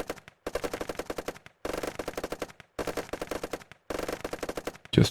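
Rapid gunfire in a World War I style war video game during a German offensive on the Western Front, fast machine-gun bursts in four long volleys separated by brief gaps, loud and dense.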